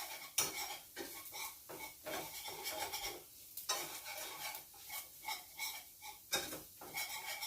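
Flour mixture for sausage gravy stirred in a pan, utensil scraping and clinking against metal in uneven strokes over a faint sizzle, close up but fairly quiet, with no talking.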